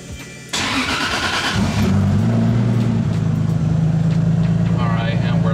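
A Datsun 260Z fitted with a 2JZ engine cranks briefly and catches, then settles into a loud, steady, rumbling idle close to the microphone.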